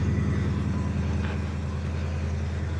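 A loud truck engine idles nearby, a steady low rumble that fills the whole stretch without letting up, with no talking over it.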